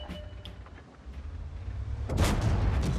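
A T-34-85M tank cannon firing in a video game: a heavy boom that bursts out partway through and rolls on with a low, rumbling tail, loud and close, with faint mechanical clatter before it.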